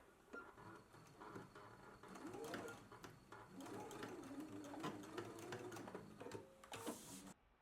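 A sewing machine stitches and back-stitches tucks at the centre of three-sided fabric petals in stop-start bursts of rapid whirring and clatter, close by, with a voice faintly present at moments.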